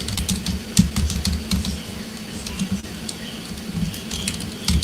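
Computer keyboard typing, a steady run of quick irregular key taps with a few louder strokes, close by and alone with no talk.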